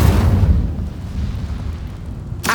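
The Incendio fire spell in Hogwarts Legacy erupts in a loud, close whooshing burst that roars and slowly fades, followed by a brief second flare right at the end.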